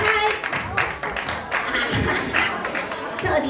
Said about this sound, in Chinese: 欢迎女主角，掌声欢迎这对双胞胎